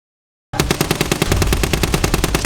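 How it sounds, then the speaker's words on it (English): A medium machine gun in a war video game fires a sustained burst of rapid, evenly spaced shots, loud and close, starting abruptly after a moment of silence. "A burst of accurate fire destroyed it outright"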